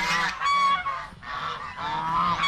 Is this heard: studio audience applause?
no